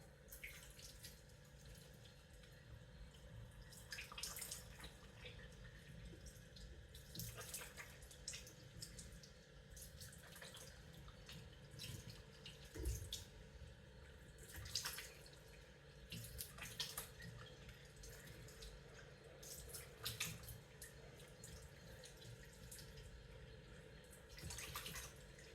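Water runs steadily from a tap into a sink while a flax seed face pack is washed off, with a faint continuous splashing rush and occasional drips, heard quietly and alone.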